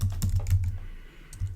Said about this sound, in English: If you don't want it, hit the escape key on the keyboard, and then you can type whatever else you want.